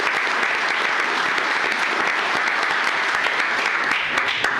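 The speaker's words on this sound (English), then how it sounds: "let's give her a big round of applause for 3 decades of service" An audience at a county commissioners court meeting claps steadily for a long-serving employee, a dense, even round of applause from a room of people with no talking over it.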